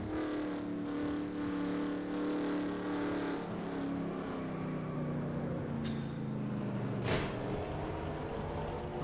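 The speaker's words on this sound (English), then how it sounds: "Let's go on board with Ed Pompa in that 27 car" An ARCA stock race car at Daytona, heard from onboard: a sustained engine drone with shifting pitch, loud and continuous, with short bangs from contact near the end.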